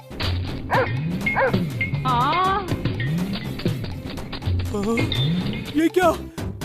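Several dogs yip, whimper and bark in a movie scene, high rising yelps repeating close by, mixed with people talking throughout.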